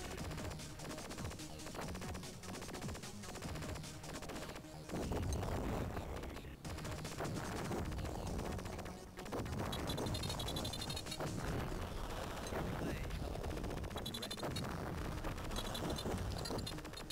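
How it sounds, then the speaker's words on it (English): Busy arcade action from Tempest 2000 on the Atari Jaguar, with crackling, popping firework-style bursts in quick succession over driving game music, loud and continuous throughout. "I like the little firework effects."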